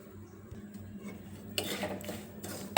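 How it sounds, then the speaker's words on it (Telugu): Semolina (rava) roasting in a pan as it is stirred with a spoon gives soft scraping and clinking that turn louder and busier partway through, close by, with a low hum underneath. "ఒక గ్లాసు రవ్వ తీసుకొని బాగా వేపుకోవాలి"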